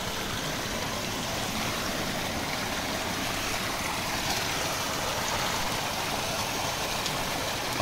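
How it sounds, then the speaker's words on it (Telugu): Mountain water pours from all sides into a valley along the Shrikhand Kailash trek, making a continuous, loud, rushing roar with no pauses. "అన్ని వైపుల నుంచి నీరు ఈ లోయలోకి దిగుతుంది"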